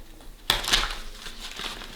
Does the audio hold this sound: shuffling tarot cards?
yes